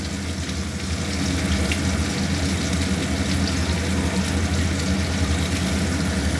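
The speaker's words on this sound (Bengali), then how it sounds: "পেঁয়াজটা ছেড়ে দিলাম" Onion frying in oil for a goat meat curry makes a dense, even hiss that stays loud and unbroken throughout, with no voices.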